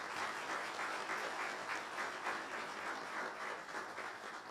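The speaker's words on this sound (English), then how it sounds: "Let's give him a round of applause" A crowd applauds a congressman at a county address, dense sustained clapping that stays loud and even from start to finish with no talk over it.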